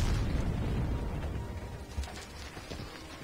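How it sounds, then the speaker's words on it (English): A shell explosion in the War Thunder video game throws up splattering dirt: a loud, close, sustained low boom and rumble with scattered crackling debris bursts over about three seconds. "As the dirt splatters from the explosion, you get the sound of it."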